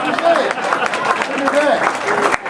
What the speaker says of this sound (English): I give a round of applause